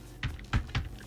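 Keystrokes on a computer keyboard as a telnet command is entered at a PC's command prompt: three distinct, evenly spaced taps, close and fairly crisp, with no talking.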